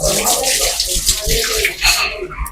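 Running water splashes steadily during washing, loud and close, with a voice speaking faintly underneath.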